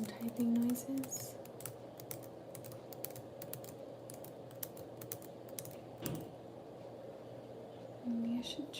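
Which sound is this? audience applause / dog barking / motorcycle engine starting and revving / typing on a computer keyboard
typing on a computer keyboard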